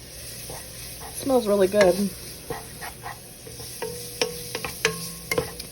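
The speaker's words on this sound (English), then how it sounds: "I'm going to kind of stir that around a little bit, just to kind of get that all coated" A spoon stirs food in a one-pot meal, with soft scraping and gentle sizzling from the pot and a few sharp clinks, while a voice briefly speaks over it.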